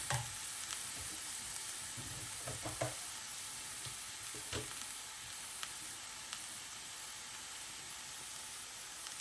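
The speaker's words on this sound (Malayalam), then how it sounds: "ഇതൊന്ന് വഴന്ന് വരുന്നത് നമുക്ക് വെയിറ്റ് ചെയ്യാം കേട്ടോ" Shrimp roast masala sautéing in a pan, a quiet, steady sizzle and hiss with a few soft stirring clicks scattered across the stretch.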